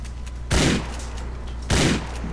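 Shotgun fire in Grand Theft Auto IV: two loud, booming blasts about a second apart, each with a short decaying tail over a steady game background hum.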